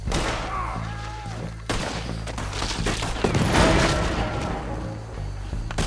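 A Red Dead Redemption 2 shootout sends out rapid, overlapping gunshots, loud and sustained, with bursts of fire crowding one another and no pause throughout.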